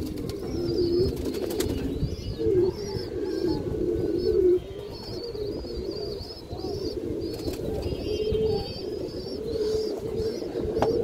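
A female pigeon coos repeatedly at close range, soft throaty calls recurring over a constant low rumble of other birds, with faint chirps and a brief wing flutter.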